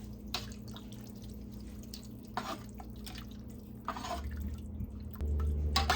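Venison soup being stirred in a pot after tomato puree and water are added, with soft liquid sloshing and scattered utensil clinks against the pot, fairly quiet and close, no talking.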